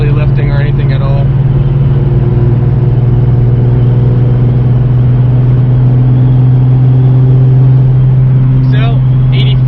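A 2005-2009 Ford Mustang S197 cruises at highway speed, its steady low engine drone and road rumble filling the cabin, with people talking briefly at the start and end.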